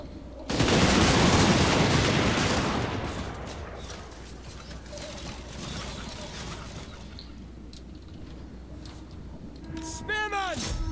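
Volleys of gunfire in the Total War: Warhammer II battle game, a dense roaring burst of massed shots that fades into a sustained rumbling din, with shouted voices near the end.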